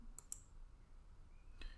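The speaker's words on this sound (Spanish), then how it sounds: "hacemos clic en este enlace" A computer mouse gives two quick, faint clicks close together, then another faint click a moment later, against a quiet indoor background with no talking.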